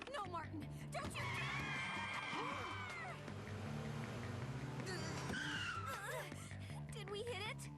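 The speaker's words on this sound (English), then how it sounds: "Check out this acceleration." A customized cartoon car accelerates hard with tires squealing and skidding, engine whine rising and falling over several seconds while excited voices shout over it.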